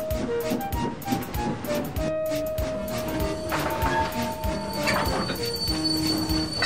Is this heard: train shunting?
yes